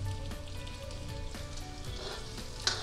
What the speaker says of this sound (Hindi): अब हम इसमें प्याज डालेंगे। धीमी आंच कर देते हैं अच्छे से भुनने के लिए